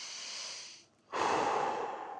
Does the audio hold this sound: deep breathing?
yes